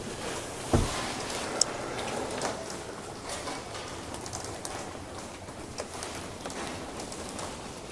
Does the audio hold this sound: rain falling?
yes